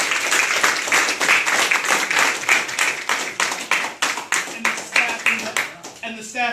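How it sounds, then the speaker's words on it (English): Audience at a Ward 6 candidate forum applauding a candidate, a dense steady round of clapping from a room full of people, with a few voices speaking faintly underneath near the end. "Let's have another round of applause for our candidate."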